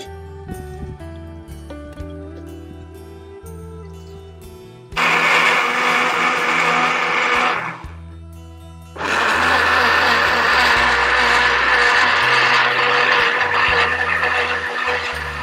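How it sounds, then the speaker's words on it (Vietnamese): A kitchen blender whirs loudly, blending mango with coconut milk, in two long sustained bursts separated by a pause, with a lower-pitched motor hum in between. "Một miếng nước cốt vô để mình xay."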